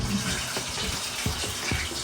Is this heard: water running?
yes